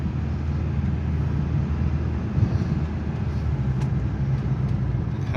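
A Nissan Be-1 accelerates, its small engine giving a steady low drone and road rumble heard from inside the cabin, even and fairly loud with no talk.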